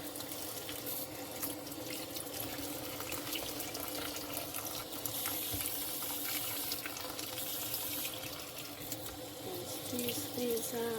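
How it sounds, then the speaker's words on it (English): Tap water runs steadily into a sink while plant leaves are rinsed, a continuous close splashing wash with faint trickles throughout. "Just quickly rinse the leaves"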